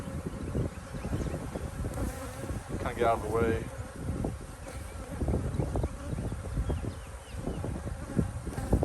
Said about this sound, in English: Yeah, come on, bees.